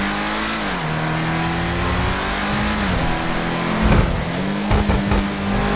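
Engine of the Ubermacht Rhinehart, a BMW 3 Series-style car in GTA 5 Online, revving loud and raw, its pitch rising and dipping through several throttle blips, with sharper bursts near the end.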